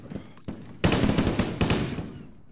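Gunfire in ARMA 3: a burst of rapid shots breaks in after a few isolated cracks, then sustained loud rattling volleys that trail off near the end.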